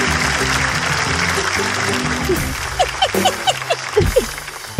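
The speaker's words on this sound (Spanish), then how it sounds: "Un aplauso para Barbie que ha venido" An audience applauds a guest on a Spanish-language talk show, with scattered claps rising over a background of music and chatter, the clapping growing more distinct and rhythmic toward the end.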